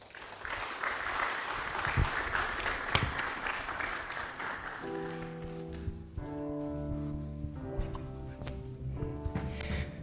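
An audience at the launch of a training programme claps for about five seconds, fairly distant and even, before the applause fades and gives way to sustained musical tones.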